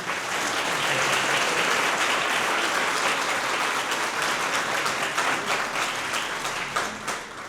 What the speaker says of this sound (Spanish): quien lo recibimos con un fuerte aplauso